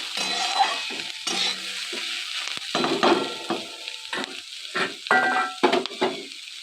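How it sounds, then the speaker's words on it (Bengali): Onion and capsicum for chilli chicken fry in a pan with a constant close sizzle, broken by repeated scraping and clinking of a spatula as they are stirred. "এই যে পেঁয়াজটা ক্যাপসিকামটা ভাজা ভাজা হয়ে গেছে।"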